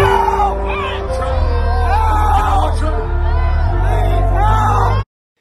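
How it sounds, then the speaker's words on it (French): A crowd at the Astroworld concert screams in distress: loud, dense, overlapping shrieks and wailing voices rise and fall continuously over a heavy low rumble, then cut off abruptly. "on commence à entendre les premiers hurlements de détresse provenant du public."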